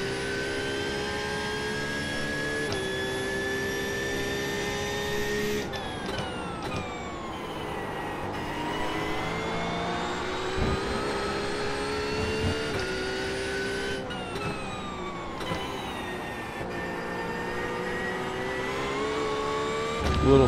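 GT3 race car engines in the video game iRacing, with a sustained high engine whine that rises and falls through gear changes and shifts pitch as cars pass, continuous and fairly loud, with no talking.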